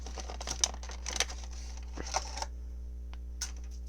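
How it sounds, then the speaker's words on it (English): Twist-tie wires are pulled from the plastic packaging of a NECA Pennywise action figure, giving irregular small clicks and rustles in quick bursts over a constant low hum before fading to near quiet. "just take out all these wires"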